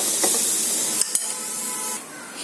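Chillies, curry leaves, coriander, ginger, garlic and coconut roasting in a pan give a steady soft sizzle and hiss throughout, broken by a couple of brief clicks of stirring near the middle.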